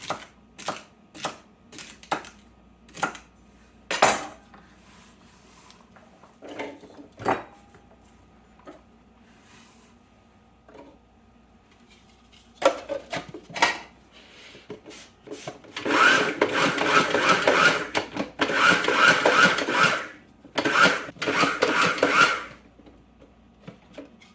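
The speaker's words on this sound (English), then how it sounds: "we're going to chop up the celery and the peppers and the parsley" Knife chopping celery, peppers and parsley on a board for Florida blue crab cakes: scattered single chops early, then a dense run of rapid rhythmic cutting near the end, close and fairly clear.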